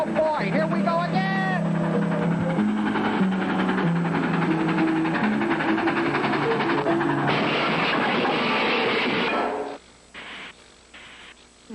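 Cartoon steam train running out of control on its rails, a loud continuous clatter and hiss with whistle-like tones and music layered over it, cutting off near the end into sparse bursts.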